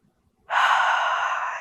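A single long, breathy inhalation with arms raised in a yoga stretch, close and steady after a brief silence.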